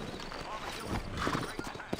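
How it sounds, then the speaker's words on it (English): Horse hooves clip-clop steadily through a frontier town in the Red Dead Redemption video game, the hoofbeats close and continuous beneath a voice talking about sturdy horses. "You ain't gonna find sturdier horses than these in all of New Ulster."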